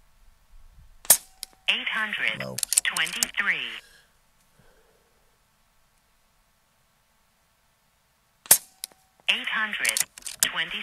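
Two sharp cracks from an AirMaks Katran Long .25 calibre airgun shooting at a target, each shot followed by a person talking, with near silence between.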